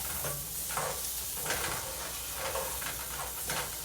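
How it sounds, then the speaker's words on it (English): Ingredients for a chicken pasta with creamy white sauce sauté in a pan with a continuous close sizzle, and periodic stirring scrapes rise above the hiss every second or so. "Saute that up a little bit."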